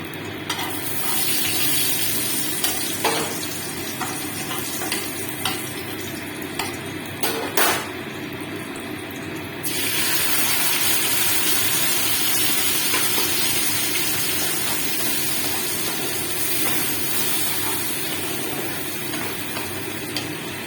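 A cooking paste of tomato, peanut, ginger, chili and a little sugar hits hot oil, giving a loud, steady sizzle that jumps in intensity partway through and keeps crackling alone, with occasional clinks of a pan or utensil.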